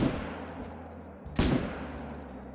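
A single loud rifle shot cracks out at an elk in a hunting video game, a sharp blast with a short rolling echo that decays over low ambient rumble.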